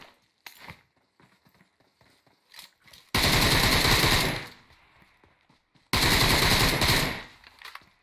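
Two long, loud bursts of automatic gunfire from the battle royale game PUBG rattle up close, each lasting over a second, separated by quieter clicks and game noises.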